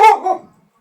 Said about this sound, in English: there's Valentine's barking